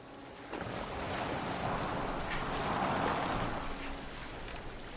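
A boat moves across water in the video game Assassin's Creed Valhalla, with a steady broad wash of waves and wind-like rushing that swells gently, no voices over it.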